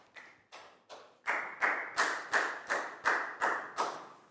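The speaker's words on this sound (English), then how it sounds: "Big round of applause for Dan, please, guys." Classroom applause from a small group of pupils in a Year 4 lesson, heard as about eleven sharp, evenly spaced beats that start soft and grow louder, played close and with no speech over them.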